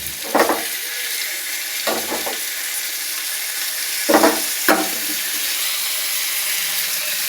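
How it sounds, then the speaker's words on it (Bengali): Cubed potato and pointed gourd drop into hot oil already spiced with dried red chilli and cumin seeds, giving a steady sizzling hiss broken by a few louder bursts of spattering and stirring. "তেল গরম হয়ে গেছে, শুকনো লঙ্কা জিরে দিয়ে দিয়েছি, দিয়ে এবার আলু পটল দিয়ে দেবো।"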